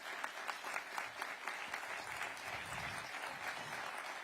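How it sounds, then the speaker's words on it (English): Audience applause at a ribbon cutting ceremony for a university campus in the District of Columbia: steady, dense clapping from a crowd, sustained and fairly even throughout at moderate distance. "Please give them a big round of applause."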